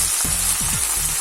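Ground masala paste for an oily brinjal curry sizzles steadily in a hot pan, a continuous close frying hiss with a few soft stirring scrapes and no talking.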